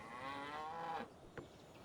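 Cattle mooing in a strategy video game, one drawn-out low moo fading out, followed by a short fainter sound, fairly quiet and with no talk over it.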